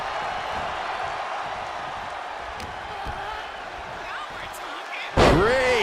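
A wrestler hits the mat hard after a hurricanrana in a WWE 2K wrestling video game: one sharp heavy slam near the end, bursting over a steady arena crowd roar.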